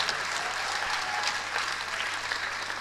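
An audience at a comedy stand-up show claps steadily, a dense wash of applause that holds at an even level throughout without voices.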